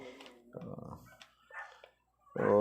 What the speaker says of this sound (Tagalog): Pati yung aming aso tuloy nag-iingay.